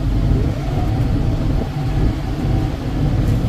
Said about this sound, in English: Okay, back in the tractor.